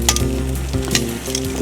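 Chicken pieces sizzle and fry steadily on a kettle grill, a close, continuous crackle with light scraping and movement, no voices.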